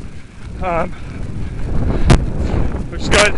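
Strong wind buffets a runner's microphone in steady low rumbling gusts, with a few loud bursts, while the runner speaks over it.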